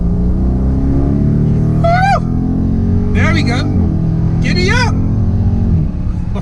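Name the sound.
2017 Dodge Charger SRT 392 6.4L V8 accelerating hard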